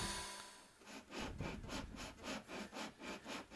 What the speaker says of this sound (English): And then to joint it, I used some sandpaper. I think that's 120 grit, just on the table.